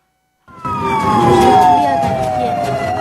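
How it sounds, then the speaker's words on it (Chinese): Fire engine sirens blare on the way to a shop-street fire in Xinyu, Jiangxi. After a brief silence, a loud, close siren bursts in and sweeps downward over a steady roar of traffic. "消防车鸣笛声大作，赶往火灾现场救人"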